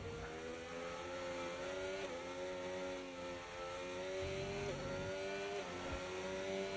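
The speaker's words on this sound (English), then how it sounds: "This is all flat out and very hard braking into the hairpin" F1 car in the F1 25 racing game running flat out with a steady high engine whine, then braking hard into a hairpin as the pitch drops sharply before rising again, loud and continuous throughout.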